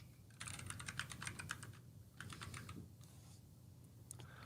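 Code being typed on a computer keyboard, with close, rapid bursts of key clacks in two quick runs separated by short pauses, then a few isolated taps, over a low room hum.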